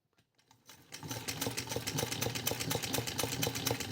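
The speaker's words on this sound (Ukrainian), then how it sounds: "Ось машинка налаштована, машинка шиє." A PMZ Podolka sewing machine stitches at a fast, even mechanical rhythm, starting up in the first second and then running loudly and steadily close by.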